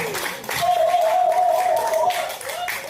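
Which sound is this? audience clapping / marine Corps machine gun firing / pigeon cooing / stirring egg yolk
audience clapping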